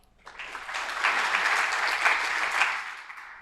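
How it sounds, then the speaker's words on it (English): Conference audience applause for a speaker being introduced, starting from near silence, swelling into a steady wash of many hands clapping for about three seconds, then fading out. "So please give him a round of applause"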